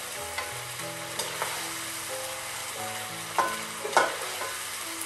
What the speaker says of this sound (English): And being cooked in olive oil